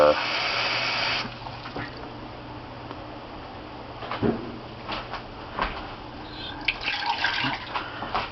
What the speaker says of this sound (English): What you need to do is get 2 cups of water.